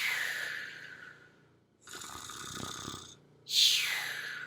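A storyteller's voice imitates silly snoring sounds at a children's bedtime story, with two drawn-out snores: a long inhale rasp, then a louder, breathy snort near the end, close and alone.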